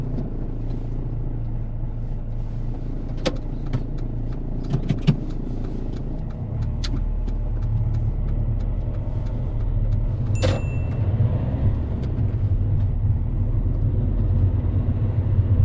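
A learner driver's car on a UK road gives a steady low engine and road rumble inside the cabin, with a few faint clicks and knocks.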